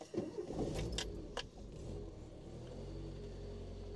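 Original keys jingle briefly before a 1972 Renault 12 Break estate's engine catches, then settles into a steady, low, close-up idle rumble.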